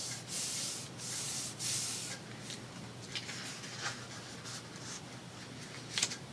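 Scored paper cardstock being folded by hand, with several bursts of soft rubbing and creasing followed by lighter scraping and sliding, close and fairly quiet, with no voices.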